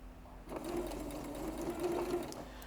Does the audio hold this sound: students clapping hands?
no